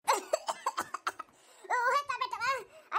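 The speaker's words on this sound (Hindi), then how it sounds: "अरे माई कितना खांसी आवत बाटे" A woman's dry coughing comes in a quick burst of several close coughs, then gives way to a strained voice speaking nearby, the coughs loud and up close.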